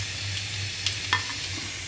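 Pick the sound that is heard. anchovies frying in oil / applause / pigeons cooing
anchovies frying in oil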